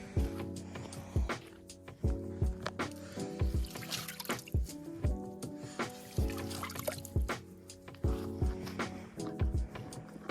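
Water is poured onto plants in irregular splashes and trickles of varying strength, close by, over a faint tonal background.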